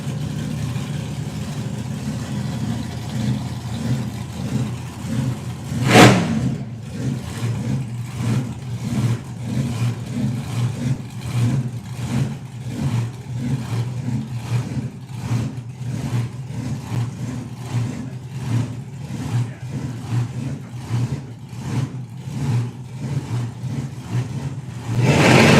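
A drag racing car roars down the strip on a 194 mph pass, its engine a sustained heavy drone heard from a distance with a sharp burst early on, no talk over it.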